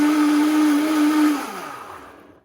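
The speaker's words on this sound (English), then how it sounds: "I have a very powerful blender, so it doesn't take long." A powerful blender blending a collagen protein smoothie, a loud, steady high-pitched motor whine that cuts off and spins down into a fading, descending whir.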